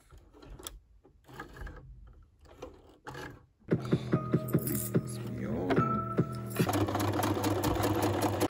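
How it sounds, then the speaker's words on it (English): A sewing machine stitches patchwork onto frayed denim jeans, starting with scattered clicks and handling noises, then running in a steady mechanical whirr with rhythmic needle taps, loud and close. "I haven't used this sewing machine in such a long while."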